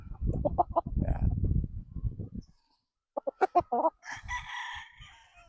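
A Gary Gilliam Roundhead gamefowl rooster crows close by, with clucking and other fowl sounds before and around it. The full cock-a-doodle-doo rings out loud near the end after a short silence, and a voice is faintly mixed in earlier.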